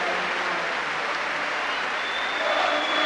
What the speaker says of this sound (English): And Chev Walker, as he got on the stretcher, he clapped the Leeds supporters for applauding him as he makes his way off the field on a stretcher.